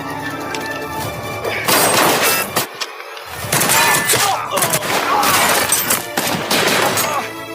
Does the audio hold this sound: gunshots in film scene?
yes